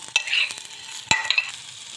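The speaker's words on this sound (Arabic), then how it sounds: "الرز بياخد تشويحتين مع الشعرية عشان يتغلف بالمادة الدهنية" Washed rice tossed in fat with golden fried vermicelli, a close sizzle running under two sharp scraping stirs of the pan.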